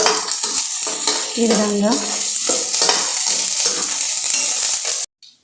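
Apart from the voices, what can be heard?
urad dal, mustard, cumin, curry leaves, peanuts frying in oil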